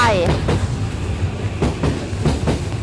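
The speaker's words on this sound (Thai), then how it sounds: "ว้าวมาแล้วมาแล้วพูดถึงรถไฟมาแล้วค่ะ" A train pulls into a station in Osaka, on the way to Universal City Station: a loud, close rumble with a brief brake squeal at the start and steady rhythmic wheel clacks throughout.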